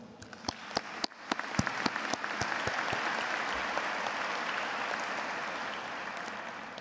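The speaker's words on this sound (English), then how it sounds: "So let's also give our faculty and staff a round of applause for all their support." Graduation audience at the Duke Executive MBA ceremony applauds faculty and staff: a few scattered sharp claps at first, then swelling into a full, sustained round of applause from a large crowd.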